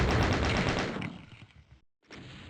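Rockets blowing up in Doom II, a loud roaring blast that rumbles and fades over about a second, followed by a brief silence and then a quieter burst of noise.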